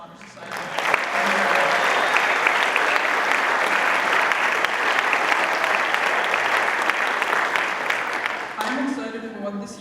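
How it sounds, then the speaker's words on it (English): At a school National Honor Society induction ceremony, the audience breaks into applause for the new inductees. The clapping swells quickly, stays loud and steady for several seconds, then fades as a voice returns near the end. "please join me in applauding our new National Honor Society"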